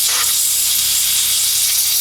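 Electrical contact cleaner sprayed from an aerosol can, giving a steady, close, continuous hiss with no talking.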